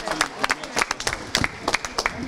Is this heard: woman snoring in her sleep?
no